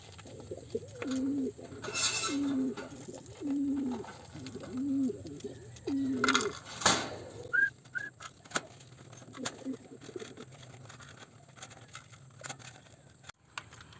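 Soft, repeated cooing from birds nearby, a few low rounded calls in sequence, with brief sharp clatters and background noise.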